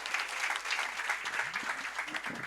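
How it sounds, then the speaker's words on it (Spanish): A steady burst of applause from a conference audience, sustained clapping throughout with no one speaking. "le damos un fuerte aplauso"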